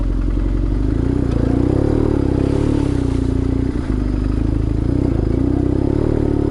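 A BMW R1150R road motorcycle rides through a sandy riverbed, its boxer engine droning loudly and steadily up close, with clattering and a brief scrape partway through.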